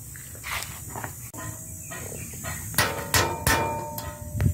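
A hammer drives a very small nail to punch holes when making a homemade grater: soft background sounds, then three sharp, close metallic strikes in quick succession.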